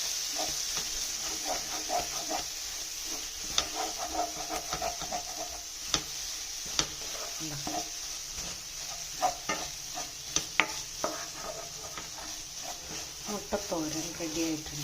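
Beaten egg sizzles in a pan while a spoon stirs and scrambles it for Kerala-style egg thoran, with scraping taps and clinks over a steady frying hiss and a voice talking at times.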